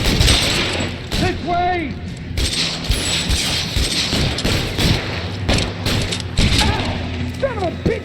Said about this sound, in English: Son of a bitch shot me!